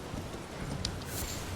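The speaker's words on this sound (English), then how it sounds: "using the horse to jump over the spiky fences" Hooves of a horse galloping in Elden Ring, a short, steady clip-clop rhythm at moderate loudness over an ambient game background.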